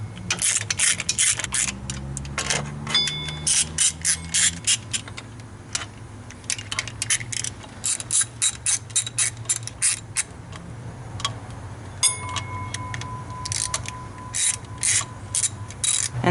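A hand ratchet clicks in quick repeated strokes while snugging cylinder head bolts on a Chevy 5.3 Vortec LS V8, close and crisp, in bursts with short pauses throughout.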